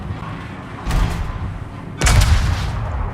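Naval main battery guns fire from a warship in the World of Warships game, only the front turret shooting: two loud booming salvos, the first near the one-second mark and a heavier one at two seconds, over a steady rumbling background.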